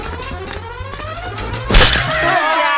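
A horse figure breaks with a sharp crash in a comedy film scene. A sudden loud shattering impact comes about two-thirds of the way through, after quieter thumps and background sound.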